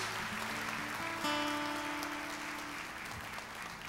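A church congregation applauds during an afternoon worship service, a steady wash of clapping filling the room with faint music tones running underneath.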